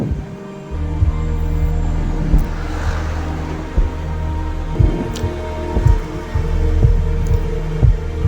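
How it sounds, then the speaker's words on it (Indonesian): A steady heartbeat thumps in regular paired beats under a low droning background with a faint rain-like hiss. "mendengarkan detak jantung Kiriko"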